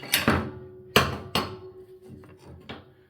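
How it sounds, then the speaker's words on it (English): A hammer striking the lower control arm on a 2006 Toyota Tundra, four or five sharp, ringing metallic whacks at uneven intervals, close and loud, no talking. "give the lower control arm a couple of good whacks and see if we can get that to come loose"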